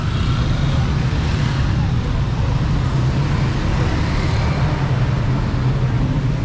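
Street traffic in Iran with old cars and motorbikes makes a dense, steady roar of engines and tyres, loud and continuous, with voices faintly mixed into the background.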